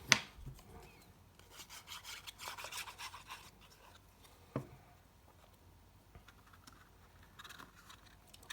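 Close, quiet cutting at the bottom of a paper box made on a punch board, with a few soft scraping and rubbing strokes and light taps.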